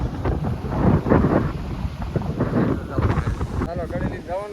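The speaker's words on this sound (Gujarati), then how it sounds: "પવન બહુ આવે." Strong wind blowing at the seashore near the Alang ship breaking yard, a loud rough rumble buffeting the microphone throughout, with people talking close by.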